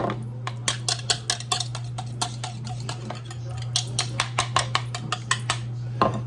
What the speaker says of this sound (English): We're gonna make an egg wash for after we boil them. Let's give it a little whisk.